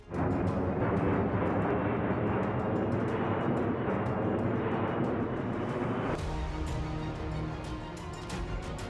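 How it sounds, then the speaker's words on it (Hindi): An Indian-built HAL Tejas multirole fighter jet at an air force exercise in Jodhpur gives a loud, sustained engine roar that holds steady and shifts tone partway through. "आप मेरे ठीक पीछे ये तेजस विमान देख सकते हैं।"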